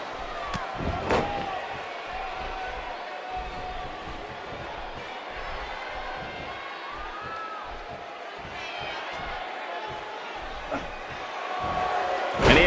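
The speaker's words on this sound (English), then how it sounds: "He slams him down with authority." Wrestler body slam in the WWE 2K18 wrestling video game, Drew McIntyre against Ric Flair, a loud thud near the start over steady arena crowd noise and commentary, with another impact near the end.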